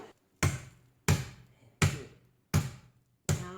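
A marble mortar pounding meat in a home kitchen, five heavy, evenly spaced thuds with short decaying tails, close and loud with no talking.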